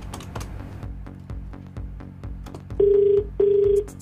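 Quick clicking key presses, like dialing on a phone, followed by two loud electronic ringback tones with a short pause between them, during a radio prank call.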